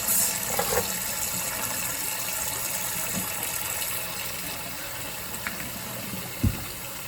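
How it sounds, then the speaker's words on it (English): Hot water runs steadily from a tap while a cast iron pan is scrubbed inside and out, a constant close gushing wash with a few faint knocks of the pan, no talking. "my water's pretty hot."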